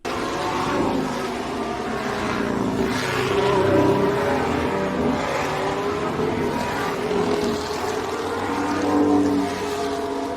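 Formula 1 race cars speed along a track. Their high, whining engines drone steadily for the whole stretch, overlapping and swelling as they pass.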